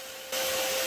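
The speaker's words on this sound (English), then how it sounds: "I'm actually vacuuming up quite a bit and I can feel them going into the nozzle like as if I'm vacuuming up pennies" A vacuum cleaner nozzle sucks up yellow jacket wasps from a nest under a camper seat, a steady loud whooshing hiss that kicks in abruptly after a brief quieter start.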